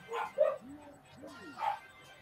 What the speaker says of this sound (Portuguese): Os cachorros latindo aqui